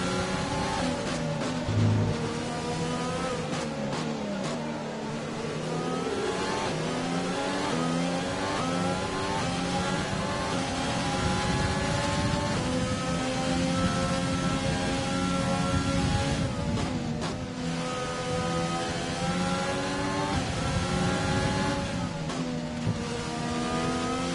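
F1 race car engines scream at the start of the Dutch GP in F1 2020, several cars revving hard and shifting up through gears in rising, overlapping whines that stay loud and continuous, with no voices.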